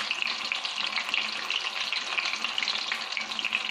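Battered fish pieces frying in hot oil in a kadhai, giving a steady, dense crackling sizzle that stays loud and close throughout, with no talking.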